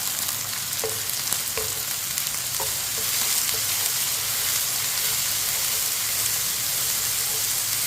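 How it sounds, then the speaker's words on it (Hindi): Chopped tomato and onion with green chillies fry in oil with a steady, close sizzle, while a spoon stirs them and knocks against the pan now and then. "इसे ऐसे ही चम्मच चलाते हुए पका लेंगे 2 मिनट के लिए।"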